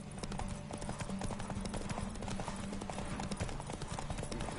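Horse hooves gallop in The Witcher 3: Wild Hunt, a steady, rapid clip-clop rhythm that holds for several seconds beneath a dense layer of game sound.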